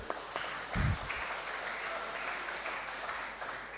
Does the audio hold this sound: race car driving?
no